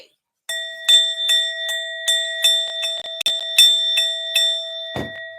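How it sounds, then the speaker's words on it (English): A high metallic bell rings out in a quick irregular series of strikes, each with a clear sustained tone, fairly close and without talk. "I know y'all hear the sound of the bell going off"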